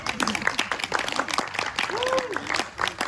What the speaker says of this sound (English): the only way to hear them, though, is again, you got to clap